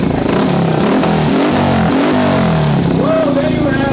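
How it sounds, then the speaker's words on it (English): A custom motorcycle at a Harley-Davidson custom show, a reworked 440 build, revs loud and near with rising and falling engine pulses amid crowd noise and voices. "Give us a squeeze, let's hear this machine."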